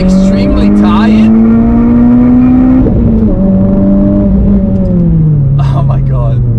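A car engine held hard against its rev limiter on a track, loud and close, with a steady high droning note that stutters and drops slightly partway through, then sags near the end; a voice is faintly present.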